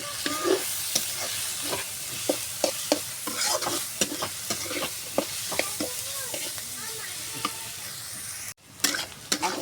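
Onions fry in oil with bay leaf and cinnamon, ginger paste and crushed garlic, for a duck curry with jackfruit seeds; a steady sizzle carries repeated rhythmic spatula scrapes and taps, with a brief dropout before louder stirring resumes.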